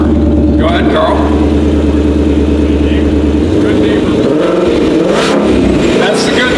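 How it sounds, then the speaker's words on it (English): 2020 Ford Mustang Shelby GT500 exhaust, loud and close: a deep steady idle rumble that swells into a roaring rev, with voices talking faintly over it. "you can hear this unique Shelby Mustang roar"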